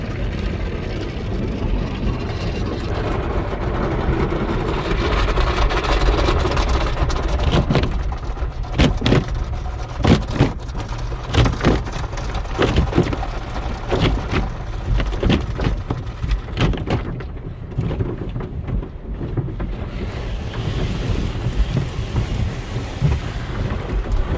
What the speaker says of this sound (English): Car washing time.